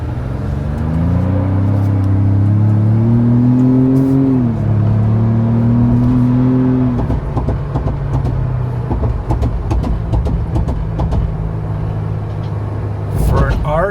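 Road noise from a vehicle riding on Kumho Road Venture RT off-road tires, heard from inside: a loud, steady low hum and engine drone with rising revs early on, then a constant cruising rumble, with a voice talking over it.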